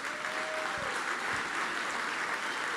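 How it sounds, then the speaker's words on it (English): An audience at a 2025 San Antonio mayoral runoff debate applauds at the close, a steady, even wash of clapping that holds at moderate loudness for the whole stretch, with no voices rising above it. "Let's give them a round of applause."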